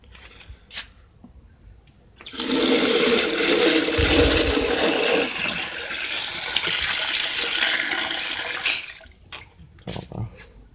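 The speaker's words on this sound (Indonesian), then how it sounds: "Kita siram dengan air sumur ya" Well water is poured from a container onto a potted crystal guava plant, giving a continuous splashing gush for about six seconds. Sparse handling noises come before and after the pour.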